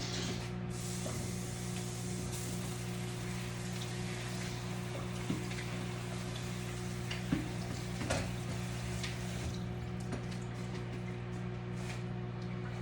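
Water from a kitchen tap runs steadily over cauliflower in a colander, a continuous hissing spray with a few small clunks and knocks of handling and no talking.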